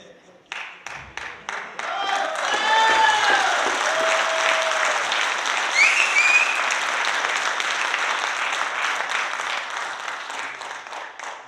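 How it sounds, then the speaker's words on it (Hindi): An audience at a motivational seminar in Delhi breaks into applause: scattered single claps build quickly into sustained, dense crowd clapping that carries on for several seconds, with a voice speaking over it early on. "और सर फिर वही क्लैपिंग हो जाए।"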